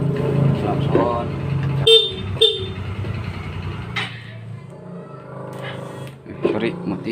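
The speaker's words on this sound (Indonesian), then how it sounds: "Klakson." A few short horn toots sound from a Yamaha Xeon motorcycle over the low hum of its running engine, with a voice briefly present.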